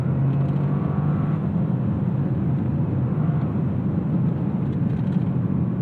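Cabin of a 2024 Toyota GR Corolla Core, its engine droning at steady revs that slowly fall away with noticeable rev hang, a continuous low hum with road noise and no voices.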